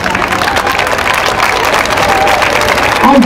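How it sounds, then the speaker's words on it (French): A church congregation at a pastoral gathering applauds loudly, a dense continuous wash of clapping with some crowd murmur, holding steady for a few seconds. "on applaudit très fort Laurent"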